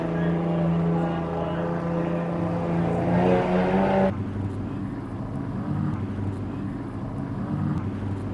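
Speedway race cars start a race on a dusty dirt track in Katherine, Australia. A steady, droning engine roar fills the air, heard from a distance and staying at an even level throughout.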